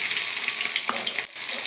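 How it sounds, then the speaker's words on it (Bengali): Onions hiss and crackle in hot oil with cumin seeds and bay leaf, a dense, steady sizzle close up, broken by a brief stir and a momentary dip in the frying noise. "লাল লাল করে ভাজা হয়ে গেছে, এর মধ্যে আমি পেঁয়াজ দিয়ে দিচ্ছি"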